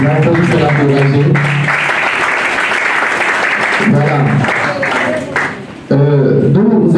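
An audience in a hall applauds in a loud, sustained wash of clapping, with an amplified voice speaking over it at the start and again near the end.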